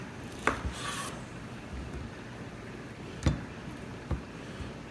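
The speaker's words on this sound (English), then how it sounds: "Let's see if we can trim them up" A knife trims thick dry-aged ribeye steaks with a few sharp scraping cuts and brief rubbing strokes, close up and quiet, with gaps between them.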